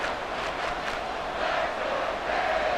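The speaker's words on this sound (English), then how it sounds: "This crowd doing all they can." A stadium crowd at an NFL game between the Miami Dolphins and Cleveland Browns roars in a sustained, dense wash of cheering that swells slightly near the end.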